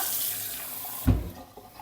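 Warm water runs from a kitchen tap into a glass while pizza dough is being prepared, a steady close rush of flow that starts loud and then quickly eases off.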